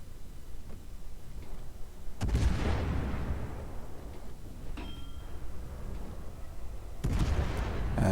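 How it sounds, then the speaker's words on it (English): Airstrike explosions in the naval combat game World of Warships: two heavy booming blasts with rumbling decay a few seconds apart, over a steady low background roar, with faint ticking between. "I'm just seeing if I can hit 2 of them with 1 airstrike"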